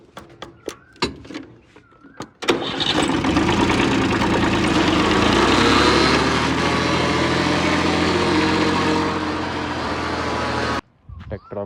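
Tractor engine starting up and running with a steady low rumble, loud and close for several seconds, preceded by brief knocks and a voice, then cutting out.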